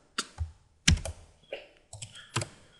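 A file name is typed on a computer keyboard in surveying software: about six distinct, close, fairly loud keystrokes come in an uneven rhythm with no talking.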